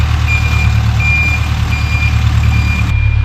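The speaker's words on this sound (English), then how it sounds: "So one truck comes, dumps a load of soil" A dump truck delivering a load of soil reverses close by, its steady series of backup beeps sounding over a loud, rumbling idling diesel engine throughout.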